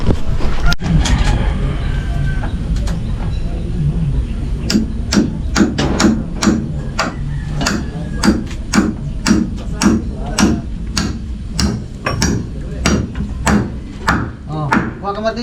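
Repeated hammer strikes drive nails into wood at a steady pace while building a house, sharp wooden knocks close by, with a few voices speaking briefly near the start.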